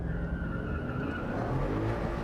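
Car spinning victory donuts, engine droning with a continuous high tire squeal and skid, loud and close.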